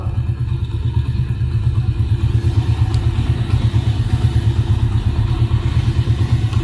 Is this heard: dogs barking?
no